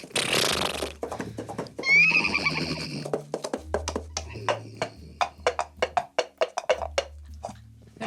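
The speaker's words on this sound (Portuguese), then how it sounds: "Eu vou fazer um cavalo aqui meio que na grama" Foley horse effect performed on a grass surface: a loud whinny and neigh up front, followed by a run of rhythmic clip-clop hoof beats with low thuds.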